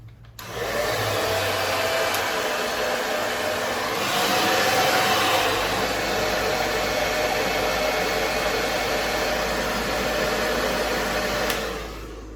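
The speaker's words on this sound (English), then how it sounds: "I'm going to put a little heat to this, just with a hairdryer" Handheld hairdryer blowing hot air onto the body side moulding of a 300ZX Turbo, a loud steady whoosh that starts abruptly, rises briefly in the middle and cuts off at the end, with no talking.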